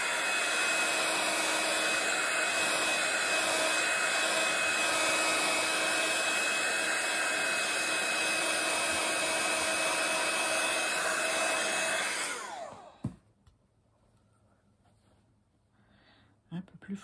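A hair dryer blows steadily and loudly over a painted art journal page for about twelve seconds, then switches off, leaving near silence with a few faint clicks.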